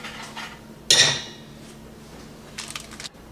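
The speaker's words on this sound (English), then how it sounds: "Okay, we need one pan." A metal pan is pulled out in a home kitchen with one sharp, close clank, followed by a short spell of quiet and some faint rattling near the end.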